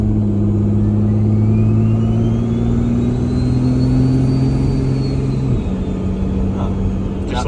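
A Cummins diesel truck engine on a dyno drones loudly and steadily, its pitch climbing slowly before a shift drops the tone, with low rumble throughout and talk faintly in the background.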